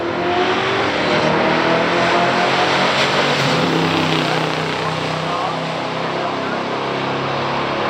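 A 1970 Corvette 454 and a 1968 Buick GS 400 run side by side at a stock drag race, their engines roaring loud and steady throughout, with a voice faintly audible beneath the din.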